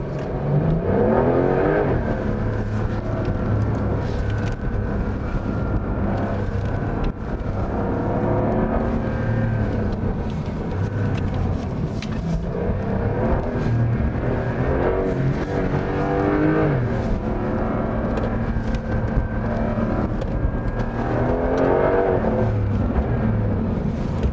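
A new Porsche 911 Turbo S lapping a track accelerates hard, its engine revving up repeatedly in rising sweeps between gear changes, loud and continuous from inside the car with no talking.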